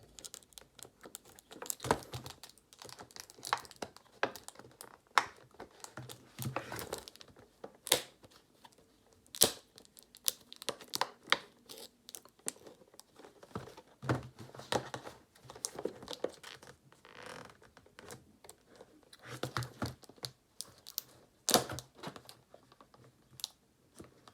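Hard plastic toy packaging being cut, with faint, irregular snips, clicks and crinkles scattered close up throughout.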